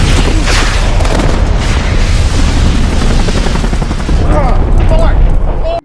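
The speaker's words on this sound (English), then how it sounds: "John retaliates, firing back at Jane's position, triggering massive explosions that devastate the area" Dense, loud gunfire crackles nonstop amid heavy booming explosions in a film shootout, a chaotic barrage that stays intense throughout before cutting off abruptly.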